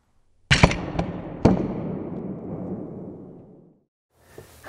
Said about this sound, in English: we're gonna take this grip and drop it from 15 feet